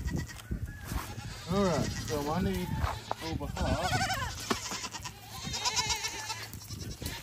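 Goats bleat repeatedly nearby, several wavering cries over a noisy farmyard, while a person talks over them.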